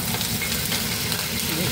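A tadka for thick arhar dal, with curry leaves and dried chillies frying in hot oil, gives a dense, even sizzle throughout a short, close burst, with no voices over it.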